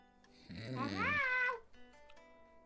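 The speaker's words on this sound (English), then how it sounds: "I was petting my cat." A pet cat lets out a single drawn-out, rising and falling meow while being petted, soft and close, with quiet room noise around it.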